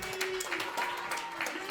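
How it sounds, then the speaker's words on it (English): An audience applauding a stage performer, a dense wash of clapping from a crowd at moderate distance, fairly faint, with cheering voices mixed in throughout. "I need the loudest round of applause you have given in the year 2024"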